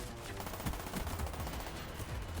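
Uzi submachine gun firing in Call of Duty, rapid bursts of automatic gunfire rattling steadily and loudly through the whole stretch with no talking.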